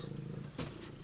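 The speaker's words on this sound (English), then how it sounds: "that's not a mouse, that's a cat." A cat purrs softly and steadily at close range, with a brief louder rustle or breath partway through.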